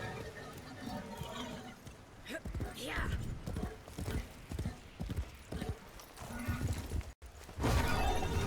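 Horse hooves clip-clop in a rapid rhythmic trot in a PC video game, with creaks and occasional rattles, and a voice talks over parts of it.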